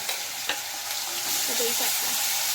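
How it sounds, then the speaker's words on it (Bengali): Onions sizzle in hot oil for doi katla fish curry, a bright steady crackle that grows fuller toward the end, with a few soft stirring scrapes and no talking. "দই কাতলা রান্না হচ্ছে, পেঁয়াজ পড়েছে এখন।"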